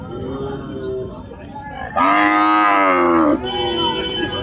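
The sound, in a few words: cattle mooing at a cattle market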